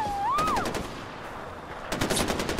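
Rapid bursts of automatic gunfire from enemies in the shooter game Far Cry 4, a rattling volley at medium distance, preceded by a brief whistling tone, then another fast burst.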